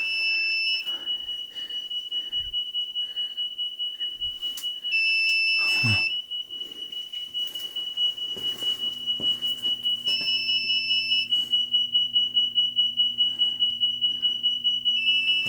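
Alarms beep continuously inside an abandoned IBM office complex, with rapid electronic tones repeating steadily throughout, loud and near, alongside a lower buzzing tone in the second half and occasional footstep thumps.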